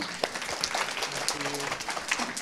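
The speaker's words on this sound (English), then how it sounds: "So let's give a round of applause for Ryan." An audience at a storytelling center claps in a short, steady round of applause, moderately loud and diffuse, with no talk over it.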